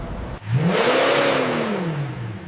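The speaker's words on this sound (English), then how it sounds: "The V12 unleashes its signature roar during full throttle testing." Lamborghini Revuelto V12 engine on a factory dyno at full throttle, loud and close, sweeping up to a high roaring wail and then easing back down in a single surge after a sharp start.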